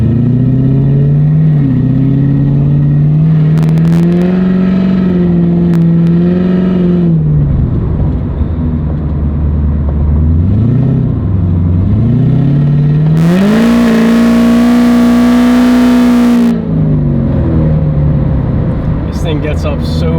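A Corvette Z06 engine runs loud at idle, a steady deep drone with pitch swells like light revs, running under continuous talk throughout.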